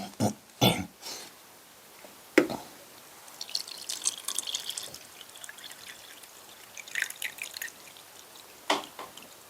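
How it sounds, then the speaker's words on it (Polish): Water pours and trickles into a Dutch army 24-hour ration pack between a few sharp knocks and clatters, fairly quiet and close. "zalejemy sobie wodą."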